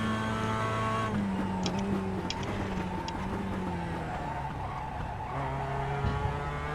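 A Mazda MX-5 Cup race car in iRacing at Summit Point Raceway brakes hard, its engine note dropping and tires squealing faintly as the pitch falls and steadies into a lower drone.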